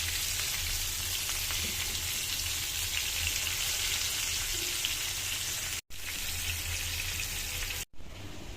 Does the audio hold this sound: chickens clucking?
no